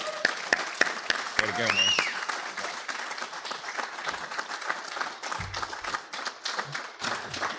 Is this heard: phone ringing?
no